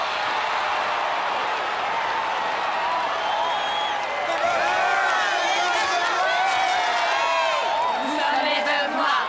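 A cartoon audience at a cheerleading championship roars with steady cheering, whoops and clapping, a dense crowd wash with excited voices rising above it.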